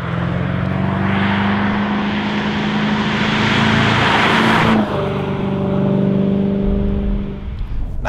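An MG ZT 400 with a Mustang-sourced V8 drives along a road, its engine a loud, continuous roar whose pitch holds, then shifts partway through as it passes and eases off.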